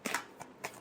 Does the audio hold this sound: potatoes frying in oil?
no